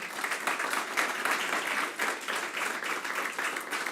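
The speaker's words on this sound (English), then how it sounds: "A round of applause to them." Audience applause closing an election observation conference panel, steady close-range clapping filling the room throughout with no speech on top.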